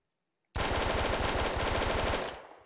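A Type 100 submachine gun fired in a VR video game, one sudden sustained burst of rapid shots lasting about two seconds, loud and close, then cutting off with a short tail.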